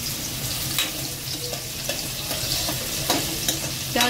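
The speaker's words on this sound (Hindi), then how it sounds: "अभी प्याज पकी नहीं है, थोड़ा सा प्याज को और लाल होने देते हैं।" Onions fry in a pan with a steady crackling sizzle, while a utensil stirs them in short, repeated scrapes close by.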